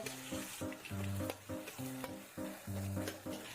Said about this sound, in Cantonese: 落咗醬推開佢，都係要慢火爆香